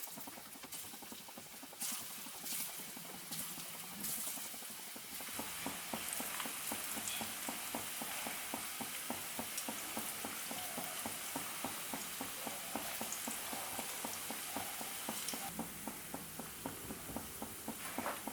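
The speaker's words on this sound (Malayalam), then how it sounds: "അപ്പോൾ എണ്ണ നല്ലപോലെ തിളച്ച് വന്നിട്ടുണ്ട്. ഇതിലേക്ക് നമുക്ക് ഈ ഒരു കോളിഫ്ലവർ ഇട്ട് കൊടുക്കാം." Cauliflower pakoda fries in hot oil, a dense, steady sizzle and crackle that starts quieter and then fills out after a few seconds, continuing close and even with no voices.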